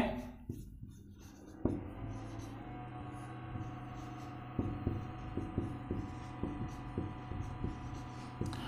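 A pen writing on paper while working a class 7 maths problem, heard as soft, rhythmic scratching strokes close by over a steady electrical hum, with no talking.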